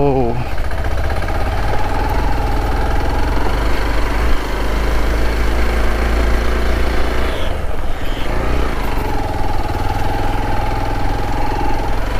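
A Hero XPulse 200 motorcycle engine runs steadily and loudly throughout, taken off-road, with a continuous low drone that varies slightly in pitch, while music and a voice are faintly heard over it.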